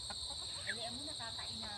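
Quiet clucking chicken sounds scattered through a short stretch, faint against a steady high-pitched background hum, with possible soft voices nearby.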